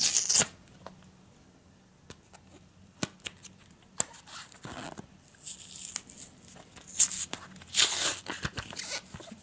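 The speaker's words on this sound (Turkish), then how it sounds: "Şuradan makasla kesin diye ama elimle kolayca yırtacağım." Packaging of a SanDisk Extreme 64 GB microSD card is torn open by hand in several bursts of ripping and crinkling, with scattered clicks and rustles between the louder tears.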